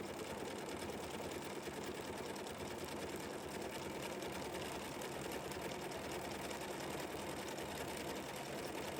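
Sewing machine running stitch 1340 at default settings on an embroidery pattern, a steady, close mechanical whir with rapid needle chatter that holds without pause.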